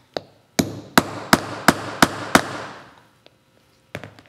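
Six sharp metallic hammer blows on an eyelet setter in steady rhythm, each ringing briefly, then a pause and a few lighter taps near the end.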